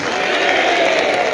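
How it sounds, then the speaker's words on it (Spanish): Church congregation applauding during a Spanish-language Catholic talk, a steady, dense wash of clapping that holds evenly for about a second and a half. "Un fuerte ese aplauso para nuestro Señor Jesucristo."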